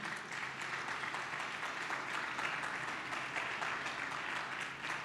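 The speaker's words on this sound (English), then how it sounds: "Can you clap for Master Jesus?" A church congregation applauds in a dense, continuous wash of clapping that stays even and steady throughout, heard from some distance with no talking.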